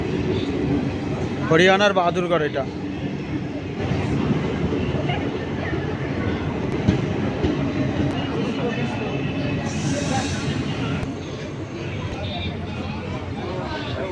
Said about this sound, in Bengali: ট্রেন ঢুকে গেল, নিউ দিল্লির ট্রেন